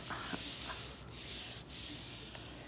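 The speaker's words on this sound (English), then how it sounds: "This is heavy duty, this cardstock, so it takes a little bit of muscle to get it folded." Heavy duty cardstock being bent and folded by hand for a scrapbook album page, a steady close rubbing and scraping friction with brief creases and pauses, no talking.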